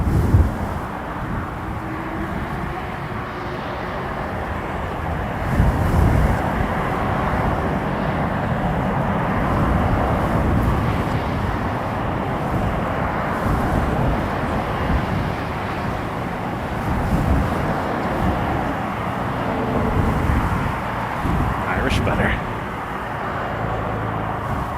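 Airbus A330 airliner, Transat 426 Heavy, taking off from Toronto Pearson, heard as a steady broad roar of jet engines with wind buffeting the microphone, holding fairly constant throughout.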